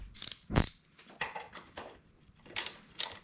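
Metallic clicks and small clatters from a bolt being removed on the ignition of a 1987 Kawasaki KDX 200 dirt bike, several short close taps with pauses between them.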